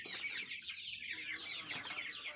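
Chickens on a free-range poultry farm, mostly native birds with some crossbreeds, cluck and chatter in a quick, repeated flurry, faint and somewhat distant, with no talk over them.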